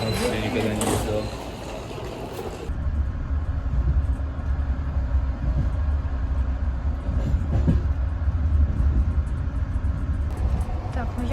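Passenger train running on rails heard from inside a sleeper compartment, a steady rumbling clatter with occasional knocks, and people talking over it throughout.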